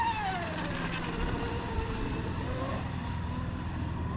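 A Spectrum 2400kv motor drives an RC boat at full throttle, a loud steady high-pitched whine with shifting tones as the boat runs hard through a turn, continuous throughout with no talk.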